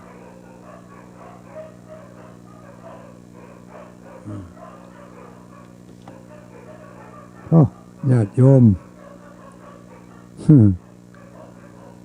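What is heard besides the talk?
dog barking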